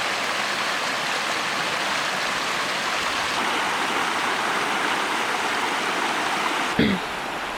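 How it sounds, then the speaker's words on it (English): Gold Creek flows in a steady, broadband rush of running water, close and continuous throughout, with a brief knock near the end and no speech. "So I'm here taking photos of this creek. It's called Gold Creek."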